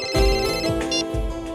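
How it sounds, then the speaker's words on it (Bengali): A mobile phone ringtone plays a short, bright melodic tone with a rhythmic pulse, close and clear, with no talking. "তোর ফোন বাজছে।"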